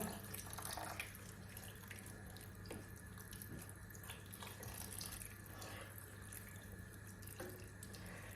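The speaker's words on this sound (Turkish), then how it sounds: "Şöylece de sizlerle birlikte suyunu döküyorum." Cooking liquid poured over Antep-style stuffed peppers and mixed dolma in a pot, a steady faint stream of running water that continues unbroken to the end, with a low hum beneath.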